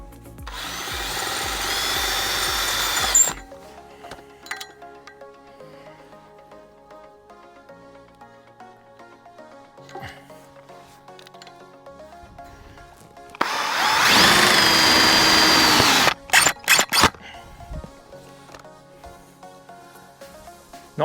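A power drill drives self-tapping metal screws in two loud bursts of a few seconds each, high whirring with grinding, separated by a quieter stretch of light handling and clinks.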